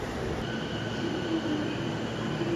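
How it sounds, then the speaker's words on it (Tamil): A train pulls into a station in Japan, its steady rumble and rolling noise filling the space, with faint wheel squeals rising briefly at moderate distance. "ஸோ ட்ரெயின் வந்து பார்த்தீங்கன்னா கரெக்ட் டைமுக்கு வரும்."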